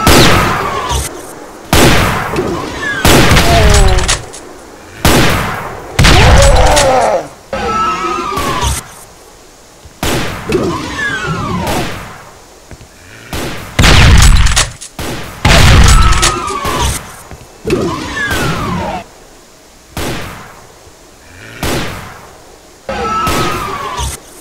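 Gunfire in the video game Doom, its remake played on PC, with repeated loud blasts in bursts and booming impacts separated by brief lulls, plus screeching creature-like tones between the shots.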